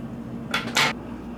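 Scissors snip through sewing thread during hand-sewing of a fabric mask: two quick, crisp metallic cuts close together, close-up against a quiet room.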